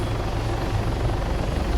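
Helicopter in the combat simulation game Arma 3, a dense steady rotor and turbine roar filling the whole moment, loud and close with no voices.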